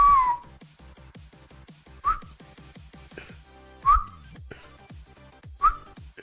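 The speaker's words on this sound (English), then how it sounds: "I can't whistle too well." Four short, bright whistled notes from a person, spaced a couple of seconds apart, each rising sharply and fading quickly, over a steady rhythmic background with no talking.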